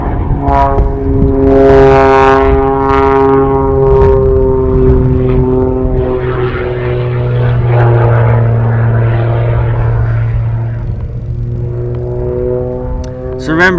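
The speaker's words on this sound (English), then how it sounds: "there was an effect right there, right, to turn the smoke off to show the verticalness of the plane" A propeller aerobatic airplane flying vertical maneuvers during an unlimited freestyle competition, its loud engine drone rising and falling in pitch as it climbs and dives, with a person talking over it.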